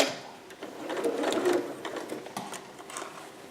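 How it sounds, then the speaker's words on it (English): Sewing machine running a long basting stitch through fabric near a 5/8 seam allowance, a short close whirring run with rapid needle thumps that swells then eases off. "I have my machine set at 5 again, and I'm basting just slightly in from 5/8"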